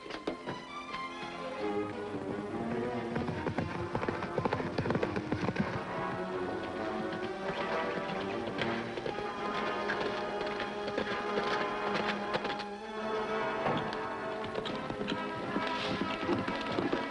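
Hoofbeats of the horse Fury carrying two riders double, a running clip-clop set in an old 1950s TV Western, sitting under loud, busy orchestral music that fills the whole stretch.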